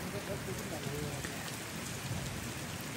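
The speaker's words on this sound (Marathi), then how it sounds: "अच्छा पाऊस पडतोय पण जाणवत नाही" Light drizzle falling steadily outdoors near a dam and waterfall in hilly country, a soft continuous patter with no voices, even and unbroken throughout.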